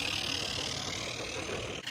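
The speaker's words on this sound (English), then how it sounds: "It's a fun little geared engine." A Mamod Brunel live steam geared model locomotive runs on a 2% upgrade track outdoors in Victoria, BC, giving a steady, continuous mechanical chuffing rumble that holds even and close for the whole stretch.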